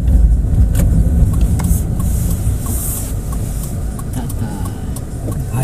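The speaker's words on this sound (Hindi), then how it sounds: "ये देखो सारी गाड़ियाँ रुक जाती है" Cars on a road at a zebra crossing in Russia, their engines rumbling steadily and close at hand as traffic slows and idles, with a faint voice now and then.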